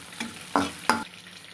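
Vegetables for noodles frying in a pan with a soft continuous sizzle, punctuated by two or three quick stirring scrapes before a sudden cut.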